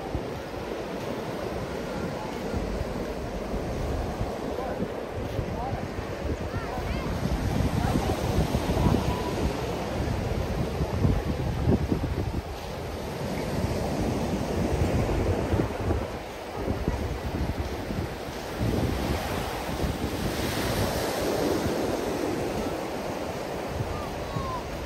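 Calm sea waves washing onto a beach at Itajaí, a continuous soft surf wash with gentle swells rising and falling, faint wind in the background, and no voices over it.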